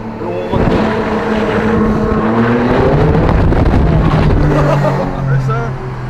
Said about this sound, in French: on entend cette fameuse ligne à Krapovic.